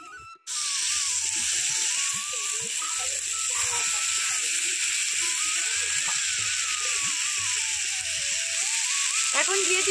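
Boiled mankochu (giant taro) stalks fry in a pan with cumin and ginger, giving a loud, steady sizzle that starts abruptly and continues throughout, with occasional stirring clatter and a voice talking faintly underneath.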